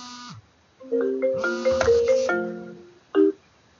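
A phone ringtone goes off during a lunchtime office software presentation, a loud electronic melody of stepped tones that plays for about two seconds before a short final chirp.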